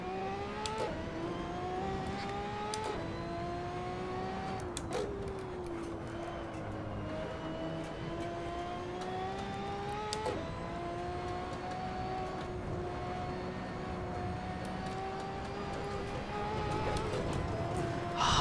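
A Ferrari 599XX race car engine in the Assetto Corsa racing game, a steady high engine whine rising through gears with repeated shift drops, heard under someone talking.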